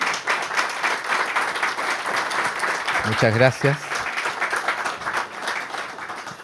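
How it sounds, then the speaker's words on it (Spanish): Steady audience applause at a university talk on data protection law, thanking the speakers, with clapping that continues throughout while a voice briefly speaks in the middle. "quiero finalizar agradeciendo a Roberto Godoy, Daniela Maureira y Fernando Fernández con un fuerte aplauso para ellos"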